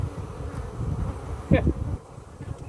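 Honey bees buzz densely around brood frames in an open hive, a close, low droning hum with one bee zipping briefly past the microphone partway through.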